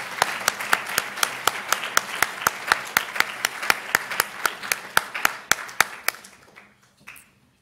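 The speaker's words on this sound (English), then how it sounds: "Let's give them another round of applause while they head back." Applause from a crowd at a graduation ceremony, sharp rhythmic claps standing out, steady for several seconds, then tapering off into quiet near the end.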